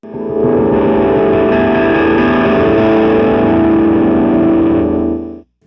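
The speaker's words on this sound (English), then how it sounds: "he'll hit the back of his neck with distortion going, and it creates sort of a noisy sound, which brings some feedback with it" Electric guitar with heavy distortion, its neck struck at high volume, giving a sustained noisy roar with feedback that holds steady for about five seconds before cutting off abruptly.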